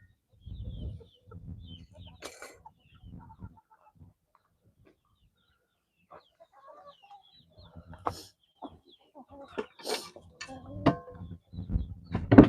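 Silkie hens cluck in a backyard, with soft, scattered clucks and short calls coming in irregular bursts, a quiet gap midway, then busier, closer clucking toward the end.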